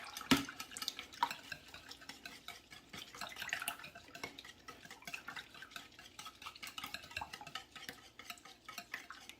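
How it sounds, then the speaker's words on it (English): Milk, oil and eggs whisked together gently in a bowl, with a steady run of soft stirring and light clinking of utensil against the bowl throughout, close and fairly quiet. "I'm gonna mix this milk, oil, and eggs together here gently."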